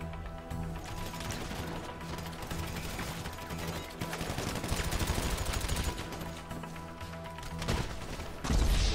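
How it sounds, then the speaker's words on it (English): Dense video-game firefight with rapid automatic gunfire and repeated grenade explosions, continuous and loud throughout, with a heavier blast near the end. "who's throwing grenades?"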